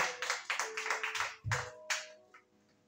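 A church congregation at a service claps in a quick, irregular rhythm, with a few louder single claps near the end before it fades.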